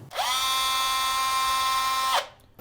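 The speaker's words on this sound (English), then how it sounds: "I will drill out the centre of this slightly." A power drill bores into the centre of a wooden mallet head, a single close, loud, steady high-pitched whine lasting about two seconds before spinning down.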